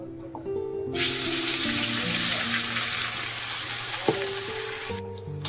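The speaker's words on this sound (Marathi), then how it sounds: "मसाला आपला चांगला भाजून घेणार आहे आपण चांगलं तेल सुटू सुटूपर्यंत" Curry leaves and masala spices fry in oil with a sudden loud, hissing sizzle that bursts in after a second and holds steady, over faint background hum, then drops away at the end.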